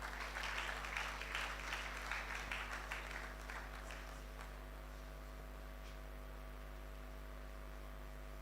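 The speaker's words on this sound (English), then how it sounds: "A round of applause for her, please" Audience applause at a university convocation ceremony, marking the 25th anniversary, with clapping for about four seconds that fades into a steady electrical hum and room noise.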